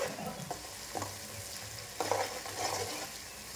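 Masala for a chicken curry fries and is stirred in a pan, giving a soft continuous sizzle broken by repeated scraping strokes and a louder burst partway through.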